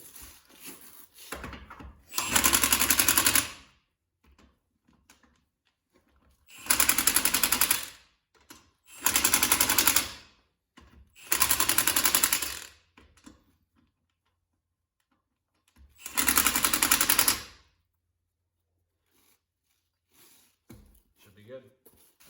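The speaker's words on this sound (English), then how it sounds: "I got them all snugged down with our impact here." Milwaukee 1/2 inch impact wrench snugging wheel lug nuts during a tire rotation, five loud rapid hammering bursts of a second or two each, separated by quiet gaps with faint clicks and handling noises.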